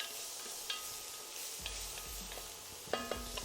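Onions sizzle in olive oil in a frying pan with a steady crackling hiss, while utensils stir and clink against the pan in a few sharp, close knocks.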